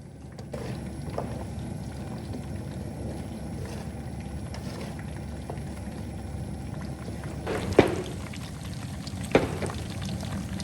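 Rendered bear fat is poured into jars from a plastic garbage bag, a continuous soft liquid trickle with a couple of light clinks, heard close up and alone.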